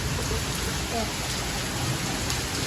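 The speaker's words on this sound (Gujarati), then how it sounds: "અત્યારે મારો વરસાદ ચાલુ થઈ ગયો જો" Rain pours steadily in a dense, continuous hiss that fills the background from start to end.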